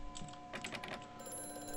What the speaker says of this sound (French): y'a le téléphone qui sonne